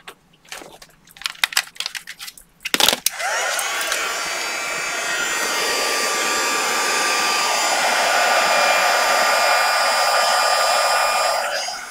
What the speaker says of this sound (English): I'll just get my heat gun.